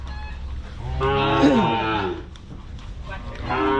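Cattle are being loaded onto a truck for delivery, and one cow lets out a loud, close moo with a rising then falling pitch over a constant rumble of outdoor noise and engine.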